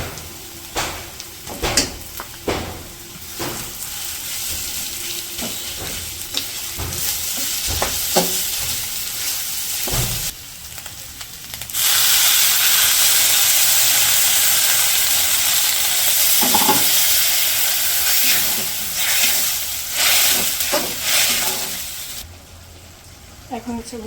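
Onions fry in a pan with ginger garlic paste while being stirred: scraping and knocking at first, then a loud, steady sizzle that swells midway and fades near the end, with a voice heard faintly at times.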